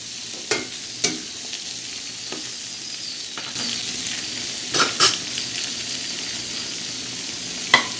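Chillies sauté in a hot pan with a continuous, even sizzle, broken by several sharp knocks and scrapes of a utensil against the pan.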